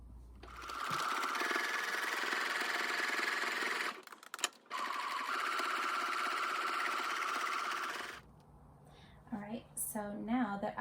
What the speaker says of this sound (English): I'm going to sew a seam to close it up.